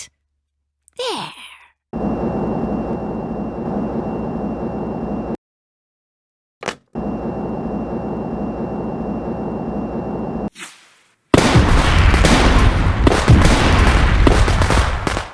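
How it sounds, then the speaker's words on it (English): Missiles self-destructing in the Simon the Sorcerer adventure game produce long sustained roaring explosion noise in several separate blocks, with brief silent gaps between, then a louder dense burst of blasts at the end. "By flipping this switch, I'll cause all missiles to self-destruct."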